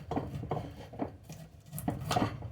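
A knife slices kernels off a fresh corn cob, giving a series of soft, regular scraping strokes with light clicks against a board or dish, close by and alone.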